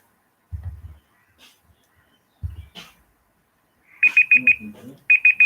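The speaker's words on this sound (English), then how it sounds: "Okay, my timer has ended." A timer alarm goes off with loud, high electronic beeps in quick bursts of about four, repeating after a short pause, following a few dull low thumps nearby.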